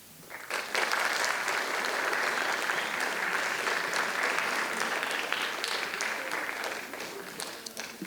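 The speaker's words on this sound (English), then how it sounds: "Keep that sweet, sweet applause going." Audience at the 2021 Australian Poetry Slam breaking into applause after a spoken-word performance; sustained, full clapping swells in quickly, stays steady for several seconds, then slowly eases off.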